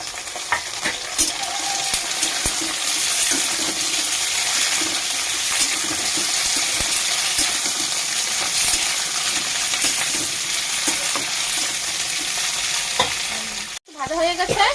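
Cowpeas (lobia) fry in a pan and are stirred, making a loud, continuous sizzle with repeated scraping strokes, close up, before a sudden cut near the end.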